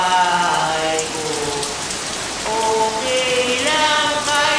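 Steady rain hisses down on a house, continuous and fairly loud, with a sung melody drifting over it.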